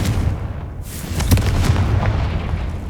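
A Confringo blasting spell goes off in the Hogwarts Legacy video game, loud booming explosions with a sharp burst near the middle that trails into a rumbling, crackling decay.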